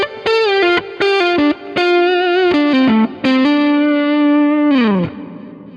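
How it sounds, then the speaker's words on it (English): Distorted electric guitar through a Kemper Profiler with reverb and delay, playing a short melodic phrase of sustained, harmonically rich notes that ends in a downward pitch bend and a trailing reverb tail, heard alone and loud. "The second part is a distorted sound with reverb and delay."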